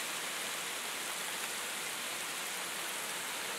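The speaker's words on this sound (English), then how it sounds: "this is like hail ice" Hail mixed with icy rain falls steadily during a thunder icestorm, a dense, even hiss of pelting ice that stays constant and fairly soft with no voices.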